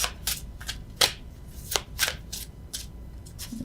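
Tarot cards are shuffled and pulled from a deck, a run of quick crisp flicks and riffles at close range, with no voices.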